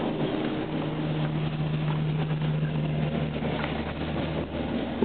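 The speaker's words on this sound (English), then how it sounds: "this is one of City of Rockville's public works vehicles doing its work" A City of Rockville public works vehicle clearing snow in a blizzard produces a steady, fairly close engine drone with a low hum and a tonal whine that holds for a few seconds and then fades, heard without voices.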